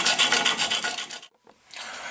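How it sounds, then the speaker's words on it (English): A steel rocker arm end is rubbed back and forth across emery cloth laid on the edge of a drill press, giving a rapid rhythmic rasping scrape up close that stops briefly, then resumes. "Then I can run that across the emery cloth."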